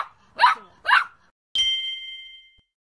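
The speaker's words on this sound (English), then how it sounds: "Tap the puppy to hear it bark." In a Khan Academy Kids learning game, a cartoon puppy gives two quick, close barks, followed by a bright ringing chime that fades out.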